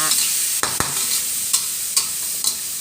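Clams are stir-fried in a pan for a holy basil stir-fry, a continuous sizzle broken by sharp metal scrapes and clinks from the spatula every half second or so, close up and without talk.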